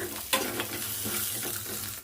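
Chopped onion and roasted gram sizzle in hot oil in a home kitchen pan for chutney, a steady close crackle with soft scraping stirs, no talking.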